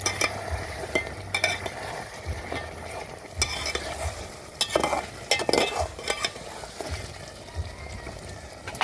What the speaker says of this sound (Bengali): এখানে হাঁড়িতে হচ্ছে মাংস।